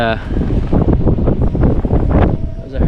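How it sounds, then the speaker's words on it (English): Steady wind buffets the microphone in gusts on a cool, snowy mountaintop in the Cape Breton Highlands, with a person's voice intermittently mixed in beneath the rushing noise. "It's windy and cool up here for sure"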